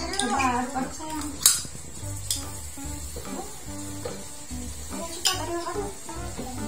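Melted palm sugar and margarine stirred in a pan for caramel popcorn give repeated scraping and clinking of a utensil against metal with a light sizzle underneath, steady and close, while people talk over it.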